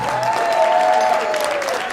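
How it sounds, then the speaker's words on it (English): At a community awards night, applause rolls through the room in a brief, steady burst of clapping while a voice briefly carries over it. "Let's have a round of applause for Jamie Bland."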